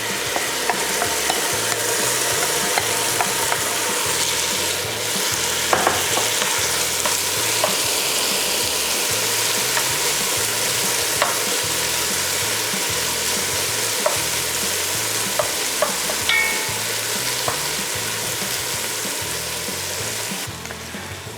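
Tomatoes sauté with golden onions and herbs in a hot pan, a loud, constant sizzle with rhythmic stirring scrapes and occasional utensil clicks running throughout.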